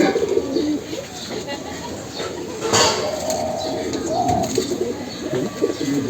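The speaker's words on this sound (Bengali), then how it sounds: "বুট ঠোঁটের কবুতর, হ্যাঁ একেবারে ছোট ঠোঁট" A short-beaked pigeon coos close by in a few soft, repeated phrases, with faint background voices and noise.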